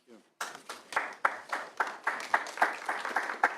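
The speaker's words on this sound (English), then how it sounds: "No applause, please, if you can." Scattered clapping from a small audience at a joint energy committee public hearing, a brisk run of distinct claps close by with a brief voice at the very start.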